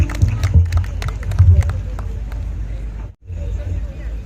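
Audience applause at the Haul Mbah Sambu 2024 gathering in Lasem as a police commander steps on stage, a loud burst of clapping with crowd babble that drops briefly then resumes.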